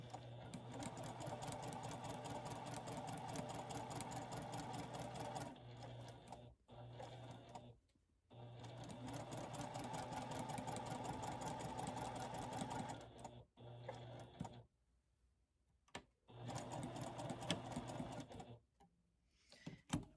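A sewing machine stitches batik linen for a tunic in close, steady bursts of rapid needle clatter, stopping briefly several times between runs, with a short backstitch near the end.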